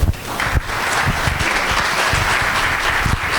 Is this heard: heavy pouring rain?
no